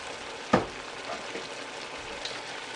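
Sweet and hot pork stir fry with hot chili sauce sizzles steadily in a hot pan, with one sharp stirring scrape near the start over a faint, constant frying hiss.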